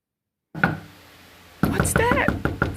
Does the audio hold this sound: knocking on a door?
yes